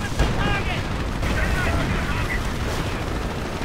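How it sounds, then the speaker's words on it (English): An explosion with gunfire in a World War II strategy game featuring tanks, Panzerschreck and Nebelwerfer artillery: a sustained loud rumbling blast with crackling shots, layered under faint background chatter. "A bit of explosion right there."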